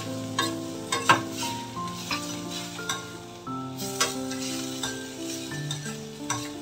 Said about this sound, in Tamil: இப்போ இது சீக்கிரமா அப்படியே கலந்து எடுக்கணும்.